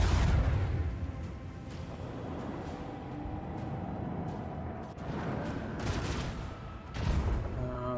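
Enemy torpedoes fire in the space game Rogue Trader, a heavy rumbling launch with muffled booms and rolling thuds that swell again toward the end, with no voices heard.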